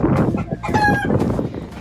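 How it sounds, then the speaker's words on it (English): Chickens kept in a brooder on a Nova Scotia homestead, close and loud, a dense burst of clucking and squawking with a short crowing call in the middle, no speech. "So at the minute we have the chickens in the brooder and the pigs in the chicken run."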